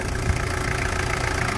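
A Toyota Land Cruiser Prado engine idles steadily with a low, even rumble and a faint knock-like throb, close and constant throughout without any voices.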